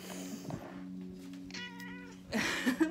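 A cat meows several times nearby, with short, wavering cries and a louder, rougher call at the end, over a soft background hum.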